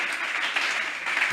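A church congregation breaks into applause during a French-language sermon, producing a brief, dense burst of many hands clapping together in a reverberant hall.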